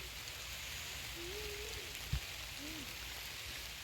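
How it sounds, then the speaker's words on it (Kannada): Soft, steady hiss of rain falling outdoors on a farm, with a single brief knock partway through and faint distant sounds in the background. "ಮಳೆ ಬಂದು ಪೂರ್ತಿ ನಿಂತ್ಕೊಬಿಟ್ಟಿದ್ದೀವಿ ಸದ್ಯಕ್ಕೆ ಇವಾಗ ಕ್ಯಾಮ್ರಾಗೆಲ್ಲ ನೀರು ಬೀಳ್ತೈತೆ"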